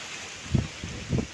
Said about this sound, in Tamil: அந்த இது புழுதி காற்று மாரி வந்து அடிச்சிருக்குது